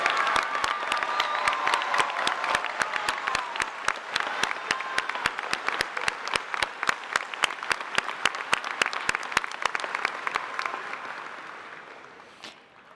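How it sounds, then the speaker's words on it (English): Graduates, guests and dignitaries at a university spring convocation applaud the Spring 2026 graduating class. Crisp, sustained clapping fills the hall for over ten seconds, then thins and fades toward the end. "Let's give a round of applause to the Spring 2026 graduating class."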